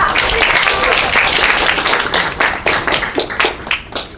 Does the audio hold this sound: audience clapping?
yes